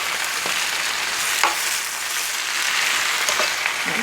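Brussels sprouts, spinach and rice crackle and sizzle steadily in a pan for a vegetable casserole, with occasional scraping stirs breaking through, close and moderately loud without talk.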